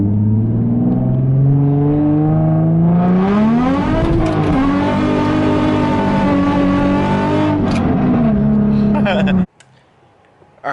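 A Nissan 350Z fitted with a cheap aftermarket exhaust drives hard, its loud engine note rising and falling through several gear pulls before cutting off abruptly near the end.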